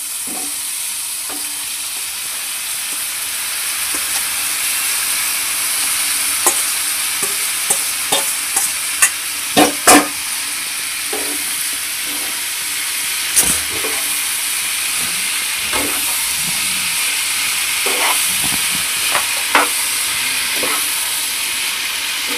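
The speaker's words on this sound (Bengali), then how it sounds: "ভালো করে মিক্স করে দেব লাউটাকে।" Bottle gourd stirred into spiced prawns in a hot pan makes a loud, steady sizzling hiss throughout, broken by scattered scrapes and clatters of the spoon against the pan.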